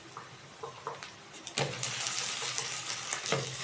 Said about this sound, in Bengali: এবার কচুগুলো ভেজে নেব ভালোভাবে।